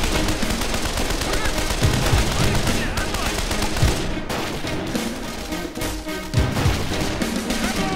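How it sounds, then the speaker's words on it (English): Machine gun fire in the war game Men of War: Condemned Heroes, loud, sustained rapid bursts with scattered heavier impacts, going on without pause through the whole stretch. "There's an MG! Find some cover!"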